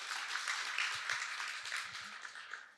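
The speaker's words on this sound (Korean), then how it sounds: "박수 한번 크게 부탁드리겠습니다." Seminar audience at an economics investment show clapping together, a steady wash of applause heard from within the hall that holds for about three seconds and slowly thins.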